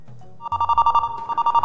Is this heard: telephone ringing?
yes